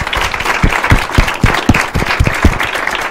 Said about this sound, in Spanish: les parece que les brindemos un fuerte aplauso a ustedes